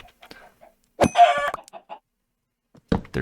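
Chickens in the Minecraft modpack StoneBlock 3 give a short burst of clucking, a single loud squawk followed by a few softer clucks and another call at the end, close by with no talk.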